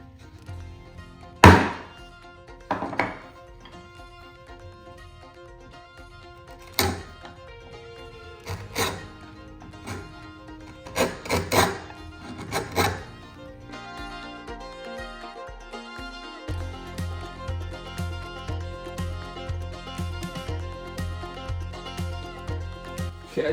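A fishtail gouge hand carves a scrap-wood mug, landing a series of sharp, separate knocks and taps at close range against a quiet, tonal background.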